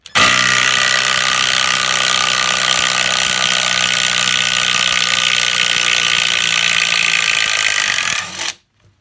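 Hyper Tough 20-volt impact driver with a regular socket undoing a bolt driven through wood, giving a loud continuous rattling hammer for about eight seconds before stopping abruptly.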